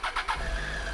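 Triumph Tiger motorcycle engine starting: two or three quick starter bursts, then the engine fires and runs at a low, steady idle close by, with no talk.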